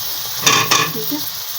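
Capsicum (shimla mirch) dropped into hot ghee in a pan while making keema shimla mirch, giving two close, loud bursts of sizzling and stirring over a steady frying hiss.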